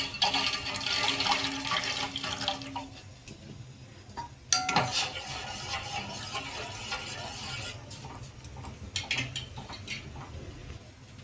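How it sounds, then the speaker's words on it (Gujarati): Raw grains for a fasting khichdi poured into a pot of hot water: a rushing, rattling pour at first, then a sharp metallic clank, then scattered scraping and clinking of utensils. No speech. "હવે આ તપેલીમાં જે કાચા દાણા લીધેલા છે તેને નાખી દેશું ને સરસ રીતે બાફી લેશું"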